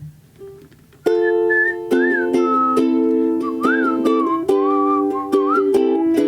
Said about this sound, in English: that's enough of that whistling